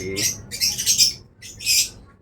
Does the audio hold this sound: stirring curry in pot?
no